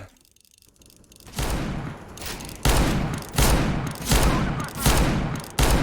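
Gunfire in Counter-Strike arrives after a quiet opening as repeated loud bursts of automatic shots, five or six clusters in quick succession, close and punchy.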